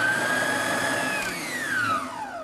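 An electric kitchen blender whirring as it mixes coriander, mint and salt, a steady loud motor whine that shifts and drops in pitch as the load changes, heard alone.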